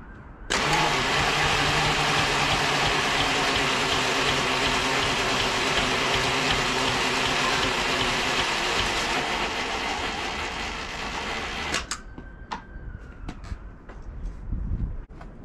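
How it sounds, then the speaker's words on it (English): A Velocette 500 motorcycle engine cranks with an electric roller starter in a long, steady whirring drone for about eleven seconds, then cuts off, leaving clicks and small clatters. "the engine was turning over there"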